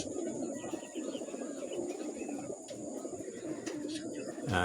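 Racing pigeons coo among other birds chirping outdoors at a pigeon release, with a constant rustling background throughout.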